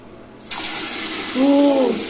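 A household bidet sprayer is switched on for a pressure test, giving a sudden steady hiss of spraying water that runs on and swells louder near the end, with a brief whistling tone as the flow peaks.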